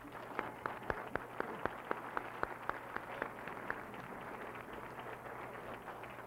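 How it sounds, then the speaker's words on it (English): An indoor audience at a university 30th anniversary event gives a brief burst of scattered clapping for sponsors, a few quick irregular claps that thin out within seconds, faint and somewhat distant over room hum. "I think we owe them a round of applause."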